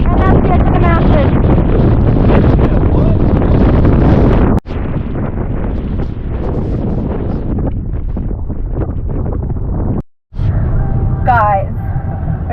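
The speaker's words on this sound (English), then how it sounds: "Still very windy." Strong wind gusting across a Scottish mountaintop near the edge and car park, a loud continuous buffeting roar on the microphone with two brief dropouts, broken by occasional voices.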